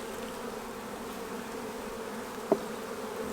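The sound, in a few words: honey bees buzzing around an open beehive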